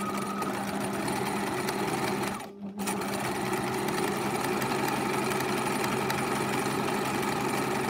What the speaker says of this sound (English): at the moment I'm stitching from this stitch line. My stitching is going kind of this way, zigzagging